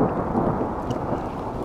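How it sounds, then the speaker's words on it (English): Heavy rain and a low rumble of thunder roll over a campsite during a long storm, a dense, continuous wash of noise with no voices. "we're going into the ninth hour straight of rain."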